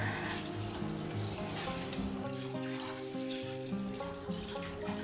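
Tap water running steadily while parippu lentils are washed, a continuous splashing stream with faint rattling, heard under a backdrop of music.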